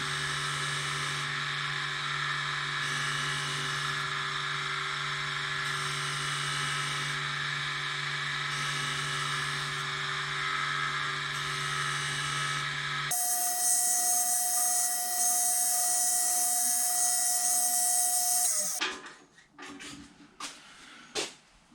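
A lathe taking a very light clean-up cut on a metal tailstock die holder, a steady whirring machine drone with a tonal whine, which then shifts to a higher steady whine before stopping with a few clunks.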